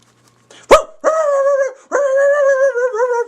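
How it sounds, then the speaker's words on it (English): A pet dog gives one sharp bark followed by two long, drawn-out whining howls, close and clear with no talking. "Sorry, that's my dog, Maverick."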